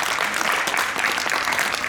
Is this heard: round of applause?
yes